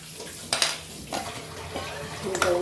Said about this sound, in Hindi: तो मैं इसे धो देती हूँ।